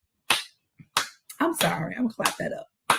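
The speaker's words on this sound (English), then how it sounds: "I'm going to clap that up." Several sharp hand claps ring out, spaced unevenly, with a voice talking between and over them.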